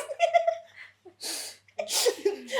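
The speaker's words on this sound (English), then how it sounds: "Excuse me, I'm going to sneeze." A breathy buildup gives way to a sharp, noisy sneeze, then a second burst that may be another sneeze or a laugh, close and fairly loud.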